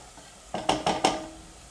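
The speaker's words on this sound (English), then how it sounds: "Here, let me just stir this again." A spoon scrapes and clinks against a pot while pea soup is stirred, making three or four quick close knocks in a short burst before the sound fades, with no voices.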